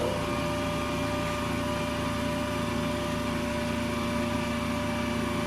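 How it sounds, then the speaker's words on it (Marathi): A DC shunt motor started with a three-point starter runs steadily, producing a constant electric hum with sharp tonal whine lines, close and even throughout, without speech. "डी सी थ्री पॉईंट स्टार्टरच्या सहाय्याने डी सी शर्ट मोटर आपण या ठिकाणी काय केली चालू केली"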